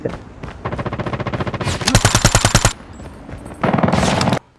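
MG3 machine gun fire in the mobile shooter game Call of Duty Mobile, loud rapid automatic bursts in several runs, the densest stretch near the middle and another burst near the end.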